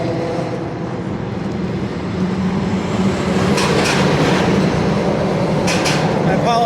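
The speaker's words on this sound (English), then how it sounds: "You can hear all the trucks going over." Trucks rumble across a bridge overhead above the Passaic River in New Jersey, a continuous loud roar with rising passes and brief rattling clanks; a voice talks underneath.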